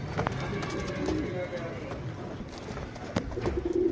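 A male tumbler pigeon coos softly amid steady background noise, with a few low calls toward the end and people talking nearby.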